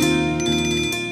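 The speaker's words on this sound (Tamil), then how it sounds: "daddy, phone அடிக்குதுல" A telephone rings indoors in a TV drama scene, a bright electronic tone pulsing in two quick bursts, loud and close with no talking over it.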